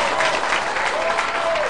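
Dense, steady applause from an audience at a live band show, filling the whole short stretch at even strength with a faint voice riding above it.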